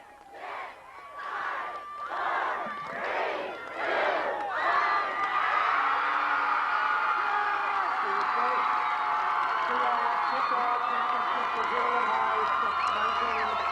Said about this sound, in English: So pandemonium at Ramona Stadium. The crowd going wild